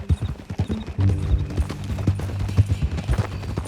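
Horse hooves clip-clop steadily at a walking pace in the Red Dead Redemption 2 video game, close and clear, with a low mechanical rumble beneath and no talking over the hoofbeats.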